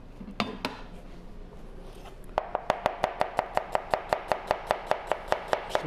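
A knife julienning sweet onions on a cutting board: a couple of isolated chops, then a steady, rapid run of crisp, evenly spaced cuts, close and clear with no talking.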